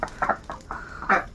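A tame duck gives a quick series of short, nasal calls, five or so in a row, close by and fairly loud, with no talking over them.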